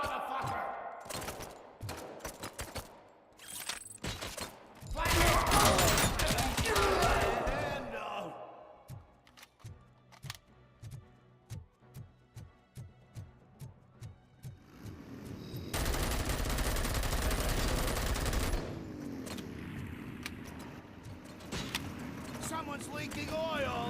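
Gunfire from the RoboCop video game comes in rapid bursts and single shots, mixed with heavy in-game effects and engine-like noise. The shots sound loud and close throughout.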